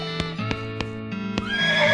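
A horse neighs in the West of Loathing video game, a clear whinny over steady game music with a few sharp percussive hits, ending in a rising squeal.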